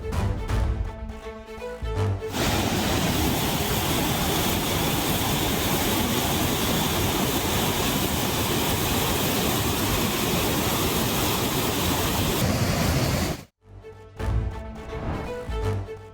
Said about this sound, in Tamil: பழைய குற்றால அருவியில் கடும் வெள்ளப்பெருக்கு ஏற்பட்டது